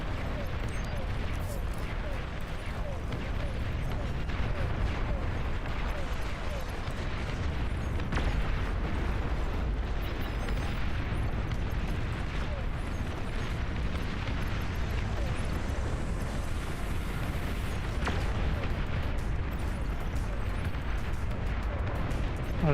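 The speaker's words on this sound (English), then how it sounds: "Oh, rockets." Rockets firing and exploding in the RTS Beyond All Reason, a continuous dense barrage of blasts and crackling impacts throughout, with a voice talking over it.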